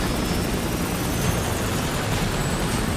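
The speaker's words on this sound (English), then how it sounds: "What's this helicopter doing?" A helicopter roaring steadily nearby, a loud continuous rotor and engine drone filling the whole stretch with no other sounds.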